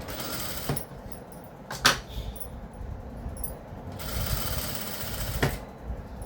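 Sewing machine stitching a cut work neck, with bursts of rapid mechanical whirring broken by pauses and a few sharp clicks, close and moderately loud.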